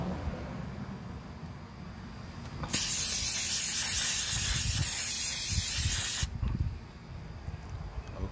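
An aerosol can sprays clear coat over a painted Chevy bowtie emblem, a loud, steady hiss starting abruptly and lasting about three and a half seconds before cutting off, with quieter background noise before and after.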